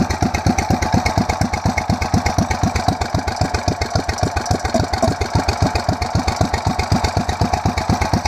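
An 8hp mini bike engine fitted with a 26mm performance carburetor idles steadily with the choke off, its fast, even putter close and loud throughout, with no talking.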